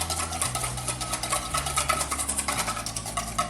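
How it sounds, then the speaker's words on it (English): A whisk beats Caesar salad dressing ingredients in a bowl, a quick rhythmic, scraping clatter that stays steady and fairly soft throughout over a low background hum. "I'm just gonna whisk it all together until incorporated."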